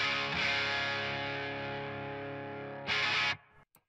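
An electric guitar played through a homemade Rat distortion pedal rings out as a sustained, heavily distorted chord that fades slowly, then gets a brief loud restrike before being cut off, with no talk.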